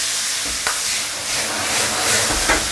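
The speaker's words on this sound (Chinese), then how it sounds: "这时候就开大火去翻炒它" Cured pork and sausage stir-fried with shiitake, spring bamboo shoots and peas in a wok over high heat give a loud, close, steady sizzle, broken by a few scraping stirs and no voices.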